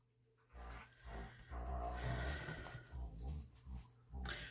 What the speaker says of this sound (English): The dogs have now decided to play together